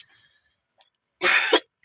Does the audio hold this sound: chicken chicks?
no